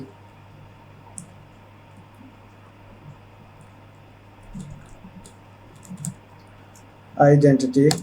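Someone types an SQL query on a computer keyboard, making sparse, faint key clicks over a quiet room hum. A voice begins speaking near the end.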